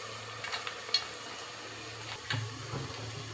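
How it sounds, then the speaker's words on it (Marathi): Kande pohe, flattened rice with onion and turmeric, being stirred in a pan, with a few soft scraping strokes and light clatter over a faint steady hum, close and quiet. "आणि पोहे मिक्स करून घेऊ आता."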